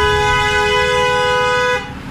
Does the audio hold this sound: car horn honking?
yes